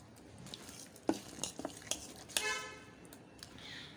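Fermented rice batter for elai vadam stirred and mixed in a vessel, giving soft scraping swirls broken by a few sharp clicks and knocks of the spoon against the sides, close and moderately quiet.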